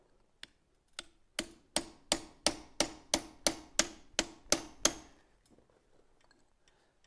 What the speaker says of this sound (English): Now I'm going to come back in with my curved chisel.